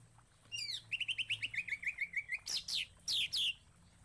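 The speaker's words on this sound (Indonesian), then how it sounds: "Ini murai batu" A white-rumped shama sings a rich, varied phrase: clear upward whistles, then a quick run of repeated chirps, ending in loud sweeping notes, close and alone.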